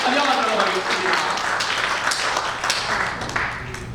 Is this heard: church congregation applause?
yes